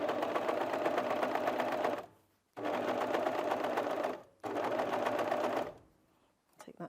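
An overlocker whirs loudly in three sustained bursts of about two seconds each, finishing a cushion seam, stopping briefly between runs, close up.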